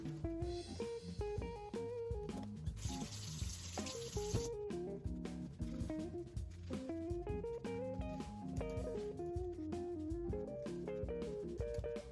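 Water runs from a tap for about two seconds, a brief hiss under steady background music before shaving with a vintage British flat-bottom razor, with no voices.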